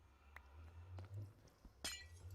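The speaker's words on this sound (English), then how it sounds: "I do like the sound of breaking glass in Minecraft" Glass blocks breaking in Minecraft, a few quiet separate clinks and one brighter crisp shatter near the end, over a low steady background hum.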